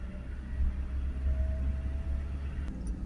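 A 2021 Vauxhall Movano 2.3 van, its diesel particulate filter regenerating, drives with a steady low engine rumble and road noise, a faint thin whine running through the middle.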